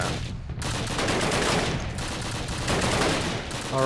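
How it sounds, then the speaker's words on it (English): Call of Duty gunfire rattles in dense, sustained bursts through a daytime battle, loud and continuous with a few brief dips. "Who are they shooting at?"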